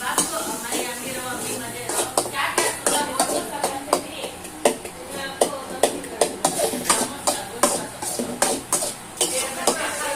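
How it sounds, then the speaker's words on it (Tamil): Onions stirred in a cooking pan, with a steady run of light metallic scrapes and clicks from the utensil over a soft sizzle. "வெங்காயம் போட்டு நல்லா கிண்டிக்கலாம்."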